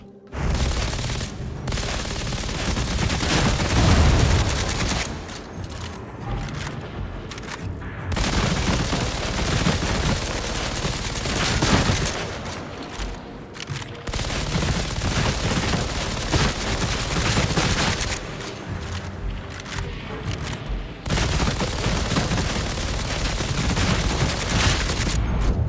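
Sustained gunfire from running and gunning with the Desperado in the video game Darktide: dense, loud, continuous bursts of shots and booms filling the whole stretch, with brief dips between volleys.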